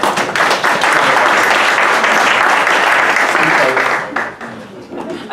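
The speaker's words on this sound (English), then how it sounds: "Can we please give a round of applause for the panelists?" An audience applauds panelists at a policy discussion on water and parks, a dense, loud burst of clapping that holds steady and then tapers off near the end.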